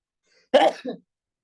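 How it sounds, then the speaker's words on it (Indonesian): A single sneeze, one sharp loud burst followed by a briefer second puff, close to the microphone, with silence before and after. "Aku mau bersin"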